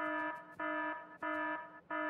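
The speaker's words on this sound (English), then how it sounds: "I might also take down that alarm for a minute." A warning alarm in the video game Factorio sounds as a loud, steady series of identical buzzing tones, repeating in an even on-off rhythm with no voices.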